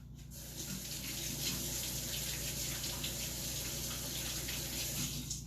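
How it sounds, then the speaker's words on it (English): Hands are rinsed under a running kitchen tap while making clam dip, a steady, moderately quiet stream of water flowing without break from start to finish. "let me rinse my hands off"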